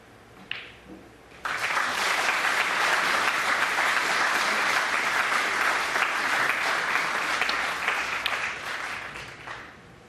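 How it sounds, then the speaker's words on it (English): At the 2018 Snooker Players Championship, an arena crowd applauds a 133 total-clearance break, rising abruptly from a quiet room into a dense, loud, sustained wash of clapping that holds for about eight seconds before tapering slightly. "The applause you've just heard is for Sean Murphy with a break of 133."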